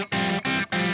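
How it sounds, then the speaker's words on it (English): Electric guitar played through an amp model with a light echo effect and no pedals, three sustained, bright strummed chords with short gaps between them, loud and close with no talking. "just a light echo, so it doesn't sound like I'm in a can"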